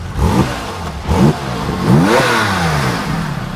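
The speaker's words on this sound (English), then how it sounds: "same Porsche sound" A Porsche 996 Turbo engine revving up through the gears, rising pitch sweeps with a throaty growl, close by and loud, no talking.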